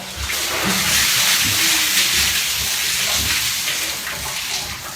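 Cold spring water pours steadily at Buhence in a loud, unbroken splashing hiss, close by and alone, with no talk over it.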